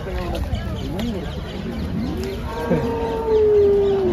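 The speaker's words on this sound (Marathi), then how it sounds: "तर मित्रांनो एक गाय बघा." A cow at a busy cattle market gives a long, rising moo near the end, close and loud over a steady crowd murmur and voices talking.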